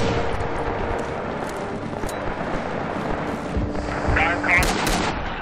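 Gunfire in the World War II shooter Rising Storm, Kwajalein assault map: dense, continuous battle noise with repeated shots and distant artillery-like booms, a few sharper bursts near the end, loud throughout.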